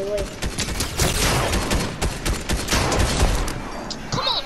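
Marksman rifle fire in an online shooter game, a dense string of sharp cracks and rapid bursts layered with other gunfire, loud and continuous, with players talking over it.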